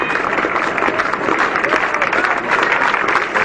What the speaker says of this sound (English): And was generously applauded off the field by the entire England side.